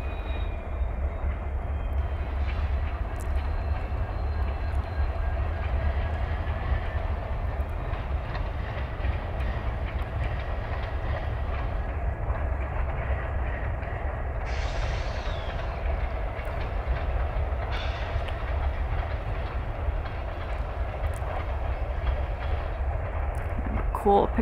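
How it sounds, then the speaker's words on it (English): A train passes along a hillside rail line near water, its low rumble and rolling wheel noise steady for the whole stretch, with a faint whistle-like tone partway through, heard at some distance with someone talking over it. "After the train goes by, I'm gonna head down the hill to Spur."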